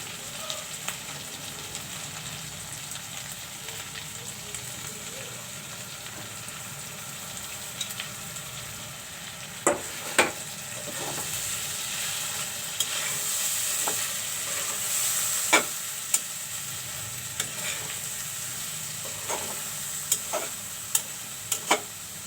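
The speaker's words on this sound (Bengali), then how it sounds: "শুটকিগুলো ভালো করে আমি এখন একটু কষিয়ে নিব" Dried poa fish shutki stir-fries with mixed spices in a pan, a constant hissing sizzle with scattered sharp scrapes and taps of a spatula growing more frequent toward the end.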